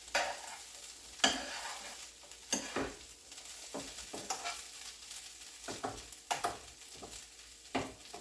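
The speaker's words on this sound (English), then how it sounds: "Go ahead and give that a stir." Veggie ground frying in a pan, with a steady soft sizzle under repeated scraping stirs that come in quick irregular strokes.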